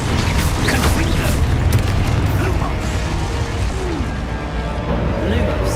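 Confringo fire spell in Hogwarts Legacy, a dense booming and crackling blast of game effects with bursts and impacts, close and loud, with a voice under the noise.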